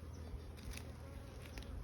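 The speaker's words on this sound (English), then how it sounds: "So these are all female bees?" Honeybees drone in a steady, faint buzz at an open beehive, with no voices heard.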